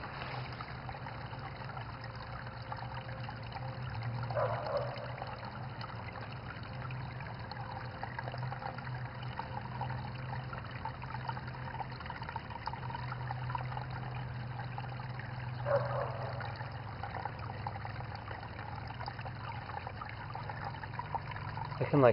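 Water trickling and babbling in a small stream at night, a steady gentle flow heard close by, with a few louder splashes and faint voices in the background.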